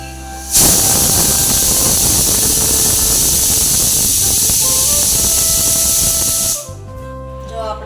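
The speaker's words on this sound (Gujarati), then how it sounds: "ત્રણ થી ચાર સીટી થઈ ગઈ છે" Pressure cooker whistling while khichdi cooks, one long loud steady hiss of steam that starts abruptly and cuts off after about six seconds.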